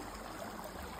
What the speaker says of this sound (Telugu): ఈ వాటర్ సౌండ్ వింటే నాకు చాలా ప్రశాంతంగా అనిపించింది